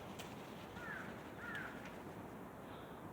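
Crows cawing on a wooded hillside, two or three short harsh calls at a distance, faint over a steady broadband background hiss, with no talk.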